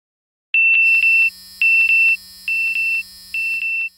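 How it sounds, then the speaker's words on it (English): A VR headset's proximity warning sounds as loud, close electronic beeps in four quick clusters of rapid high pulses, with short gaps between them and nothing else audible. "I'm also hearing audio beeps which feel like they're coming from in front of me"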